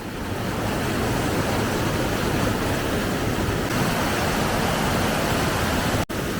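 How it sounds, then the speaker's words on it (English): A steady, broadband rush of falling water from a waterfall in the North Wales hills, continuous and fairly loud with no voices. "this is the waterfall I was underwhelmingly commenting on while we were walking around the road"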